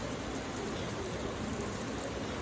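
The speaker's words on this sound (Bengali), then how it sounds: "সুন্দর একটা বৃষ্টি নামলো।" Rain falls steadily as a soft, even hiss of drops, quiet and continuous with no voices or other sounds over it.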